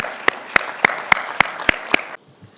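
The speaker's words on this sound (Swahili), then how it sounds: "Tuwapigie makofi jameni." An audience at a presidential speech claps in unison, seven sharp, evenly spaced beats ringing out close and loud before stopping abruptly.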